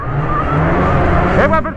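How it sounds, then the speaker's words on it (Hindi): A car exhaust revving hard inside a lit tunnel, a loud sustained engine roar climbing in pitch toward the end, with a voice speaking over it. "देखिए आपने एग्जॉस्ट की पावर"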